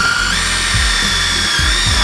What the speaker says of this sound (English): This is the drill bit that you're gonna use to pre-drill the hose.